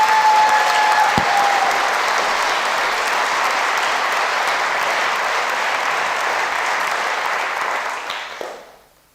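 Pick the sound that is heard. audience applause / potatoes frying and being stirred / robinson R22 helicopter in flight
audience applause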